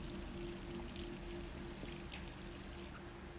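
Steady running water pours in a Resident Evil 3 game scene, a continuous faint stream that holds level throughout, with a low hum beneath it and no talk.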